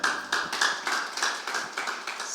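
A church congregation claps for its worship leaders and musicians during a Sunday service, a loud unison rhythmic clap repeating steadily about every quarter second, close and alone.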